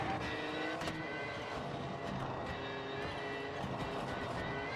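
A rally car engine in a rally video game drones and revs continuously at moderate loudness with gear changes, sounding thin and buzzy, with no talking.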